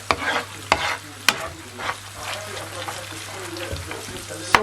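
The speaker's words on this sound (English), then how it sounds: "So while the garlic is being caramelized" Garlic caramelizes in butter in a pan with a soft sizzle. Several sharp utensil knocks and scrapes sound against the pan, and low background hum and noise sit underneath.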